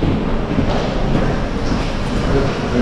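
A train arriving at a station in Štrba, Slovakia, as a steady loud rumble of rolling railcars that fills the whole stretch, with faint voices in the background.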